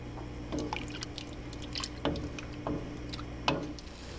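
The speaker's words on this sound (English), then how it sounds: "Now that it's boiling," Thick beef barley soup with tomatoes and beef broth bubbles and pops in a pot nearby, with irregular soft blips and gurgles over a low steady hum.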